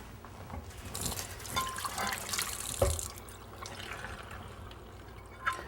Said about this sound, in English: Wet it with room temperature water,